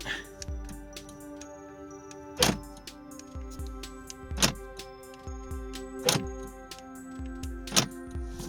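A car answering its remote key fob after immobilizer programming gives four evenly spaced, sharp thunks, like door locks actuating, over a steady background hum.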